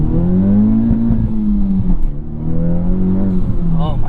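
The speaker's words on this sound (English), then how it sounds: "I need to floor it in sport mode in first gear. I'm gonna floor it in first gear" Honda Civic Type R FL5 with a Stage 2 Hondata tune pulls at full throttle in first gear in sport mode, engine note rising loud and close, with a dip like a brief lift or shift.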